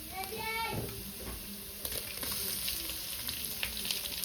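Onions sizzling as they fry in a pan, spoon stirring through them, with a steady crackle and scraping taps, faint and close, a voice briefly heard at the start.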